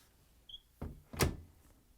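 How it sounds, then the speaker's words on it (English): Door of a Frigidaire front-load washer being shut, with a soft rustle followed by two quick thuds, the second louder, then a brief rattle, close and fairly quiet. "Close the door."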